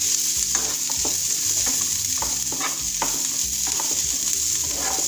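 Cashews and almonds fry in a pan with onions, a continuous close sizzle broken by repeated spatula scrapes and knocks against the pan; no voices.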